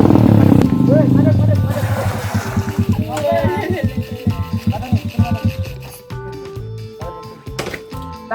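A motorcycle engine idles loudly and revs up close by in a residential street, settling into a rough, pulsing idle. People talk over it.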